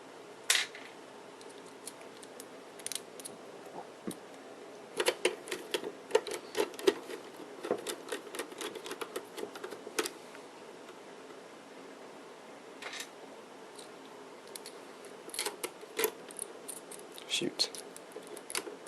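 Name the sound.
screws being installed in a computer's rear I/O panel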